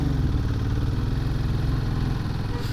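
An adventure motorcycle engine idles on a hilly hairpin road trip, a steady near, loud low chugging throb that holds level throughout with no talk.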